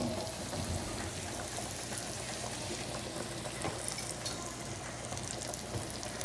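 Chicken breasts browning in olive oil in a hot pan over medium-high heat, a steady, dense sizzle and crackle that holds at an even level throughout with no one speaking.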